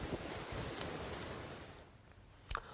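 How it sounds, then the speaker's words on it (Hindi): High sea waves and strong cyclone winds in Mumbai roar as a broad wash of surf and gusting wind noise with a sharp buffet near the end, no voices. "समंदर में कैसी ऊंची ऊंची लहरें इस चक्रवात की वजह से दिखाई दे रही हैं।"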